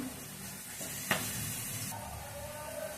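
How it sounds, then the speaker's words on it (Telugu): Sliced onions fry in oil with curry leaves and green chillies, giving off a steady close sizzle and hiss. A brief stirring scrape breaks in once, and the sizzle continues at a constant low level throughout. "ఉల్లిగడ్డలు ఫ్రైకి బాగా ఫ్రై అవ్వాలి"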